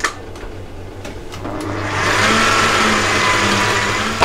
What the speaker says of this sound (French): Et on mélange, toujours avec le robot.